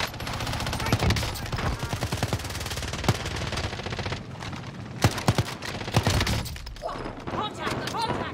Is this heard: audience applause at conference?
no